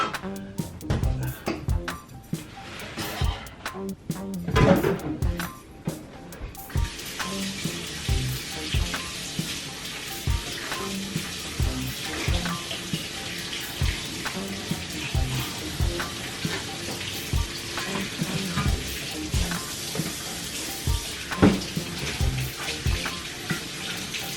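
Tap water runs into a kitchen sink as hands are rinsed, a steady close splashing hiss that lasts throughout, with brief clatters and shifts in the flow.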